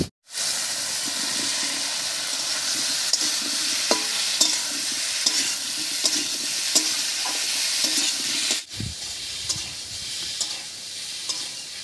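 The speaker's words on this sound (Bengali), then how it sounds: "আলুটা দিয়ে একটু নাড়িয়ে নিয়েছি" Boiled potatoes are stirred into fried tomato in a hot pan, with a steady sizzling hiss and repeated scraping stirs at close range for about twelve seconds, and a brief pause near the end.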